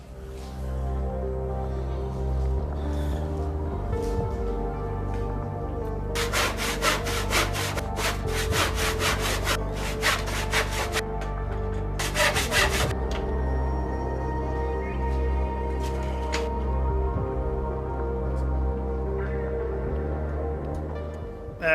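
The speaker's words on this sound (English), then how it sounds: "Let's start off with cutting wood" Wood being sawn by hand in a workshop to build a jig for rebuilding the strips of a vintage Sound Workshop studio console, with several bursts of rhythmic strokes over a steady low hum and no talk.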